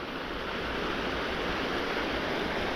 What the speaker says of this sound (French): Et là, le petit torrent qui dévale.